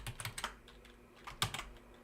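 Someone types on a computer keyboard in quick, soft clusters of clicking keystrokes with a short lull in the middle. The clicks are faint and close, and no one speaks.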